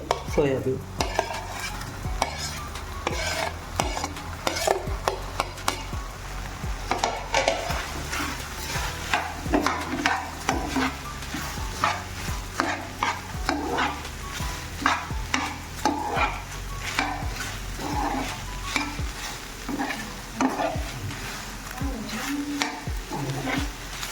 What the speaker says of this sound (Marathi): आता आपण ह्याच्यामध्ये टाकणार आहोत फ्राय केलेले हे आपले